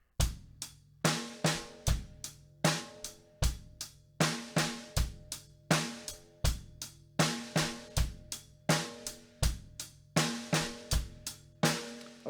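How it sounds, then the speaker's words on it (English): A close, dry drum kit repeats a brisk pattern of bass drum thumps and cracking snare hits with cymbal wash, a steady loop with no voices. "the next pattern was our bass, snare, snare, bass, snare pattern."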